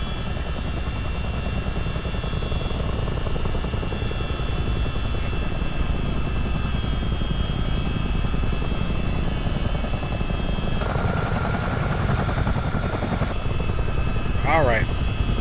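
Rotor drone and turbine whine of a CH-47D Chinook tandem-rotor military helicopter in flight simulation, a steady loud hum running the whole time, with a brief warbling tone near the end.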